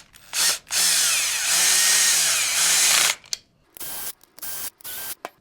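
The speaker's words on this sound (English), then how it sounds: "you can tighten these down either with a skate tool, or if you have a bit like this on your drill" A power drill with a bit tightens the truck hardware on a surfskate longboard, whining in long rising and falling bursts that slow as the bolts seat, followed by several short, sharp pulses near the end.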